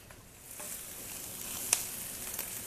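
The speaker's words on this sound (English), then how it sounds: "I will be sauteing this" Onions sauté in a pan with a faint, steady sizzle and a few soft clicks and pops, growing slightly louder near the end, with no talking.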